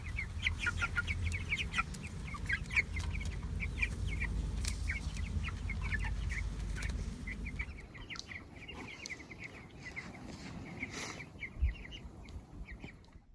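Meat chickens in a moveable chicken tractor on a budget homestead, clucking and calling steadily throughout, with a rooster-like crow and scattered chirps over a low outdoor rumble that drops away partway through.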